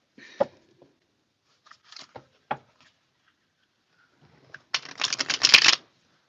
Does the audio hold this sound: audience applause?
no